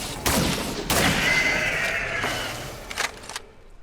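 Gunfire in the third-person action adventure game Scars Above: a few loud, close weapon blasts spaced about a second apart, each trailing into a lingering ringing decay, with no talking.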